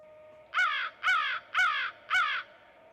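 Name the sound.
American crow cawing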